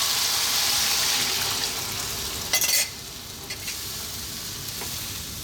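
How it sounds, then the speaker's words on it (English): Coconut milk cooks on high heat for a fish curry, a steady loud bubbling sizzle with a brief stirring clatter partway through and no talking. "on a high heat, I want to cook this coconut milk now for 4 to 5 minutes"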